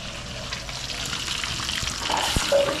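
Tilapia frying in lard with garlic and dried chiles, a steady close crackle and hiss with a brief clatter near the end.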